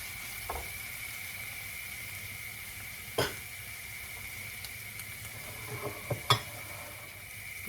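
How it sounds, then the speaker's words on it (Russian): Steady soft sizzling of food seasoned with pepper and salt frying in a pan, with a few sharp clicks and scrapes of stirring scattered through, no voices. "Обжариваем еще минуточку."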